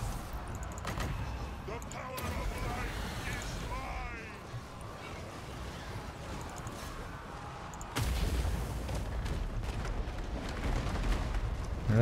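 Great cannon fire in Total War: Warhammer: a loud boom hits partway through over a busy rumbling battle bed with scattered shots, and people talk quietly throughout.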